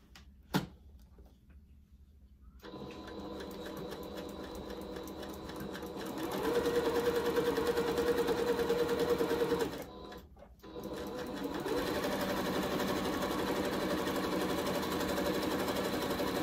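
A sewing machine stitching a fabric face mask, running in long steady whirring bursts with a short pause between them, close and continuous, with no talk.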